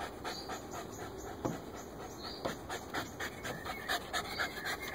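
A female dog pants in the heat, quick rhythmic breaths repeating steadily at close range, fairly quiet against a faint background hiss.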